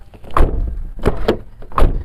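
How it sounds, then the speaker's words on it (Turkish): Doors on a Fiat Doblo light commercial van with automatic transmission shut with dull, solid thumps, three or four heavy closes in quick succession, close and loud outdoors. "şöyle kapı sesini de en son dinletip sizlere dilerseniz"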